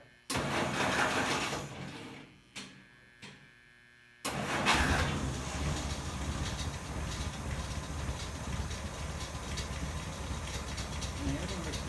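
A 1946 Willys Jeep CJ-2A engine cranks in a loud burst, goes quiet, then catches abruptly and settles into a steady, close, rumbling idle that continues to the end.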